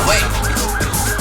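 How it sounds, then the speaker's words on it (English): A loud siren wails up and down over steady traffic rumble, close by and continuous. "I hear sirens."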